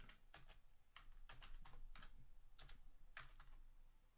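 Faint, close keystrokes on a computer keyboard come in quick, irregular bursts of clicks with short pauses, with no voice over them.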